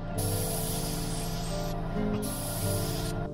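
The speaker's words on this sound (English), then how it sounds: "And I'm gonna spray paint it with an opaque white." Continuous loud hiss of an aerosol can spraying opaque white paint onto a small swimbait fishing lure, in long bursts with brief pauses between them, up close and without talking.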